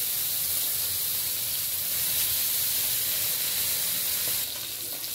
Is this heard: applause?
no